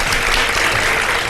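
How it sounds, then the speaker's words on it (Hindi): A brief burst of dense, loud applause from a studio audience on an iftar television show, continuous clapping filling the whole moment. "बहुत सारी तालियां।"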